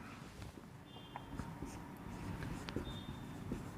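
Chalk or marker writing on a board during a math lesson, faint scratchy strokes and light taps over a quiet room hum, with brief squeaks.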